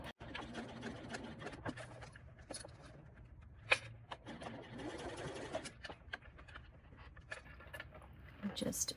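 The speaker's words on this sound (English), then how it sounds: "Doing the same thing on the second side, back stitching at the boxed corner." Sewing machine stitching and back-stitching the boxed corner of a bag lining, faint and close, with a soft mechanical whir in short runs and small clicks, under quiet talk.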